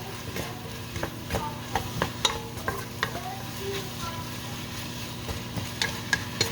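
Green beans and pork with chicken cubes being stirred in a pan, sizzling steadily with repeated scraping and clinking strokes of a spatula against the pan.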